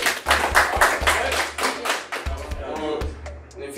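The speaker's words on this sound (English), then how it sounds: "Give me a round of applause." A small group claps a round of applause on request, with dense irregular hand claps throughout, fairly close and loud, over a low steady hum and faint talking.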